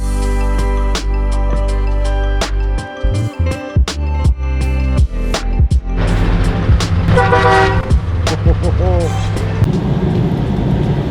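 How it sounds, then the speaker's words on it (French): A black Scania S500 truck blasts its loud air horn in a series of long, sustained toots close by on the road near Le Havre, over a steady engine drone. "vous avez vu le beau Scania noir là avec le coup de klaxon qu'il m'a mis?"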